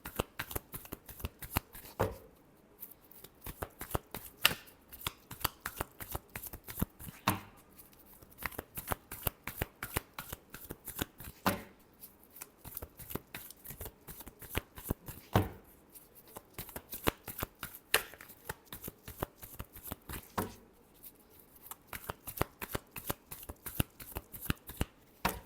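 Tarot cards are shuffled by hand in repeated quick riffling bursts separated by brief pauses over about twenty-five seconds, close and crisp, with no talking over them.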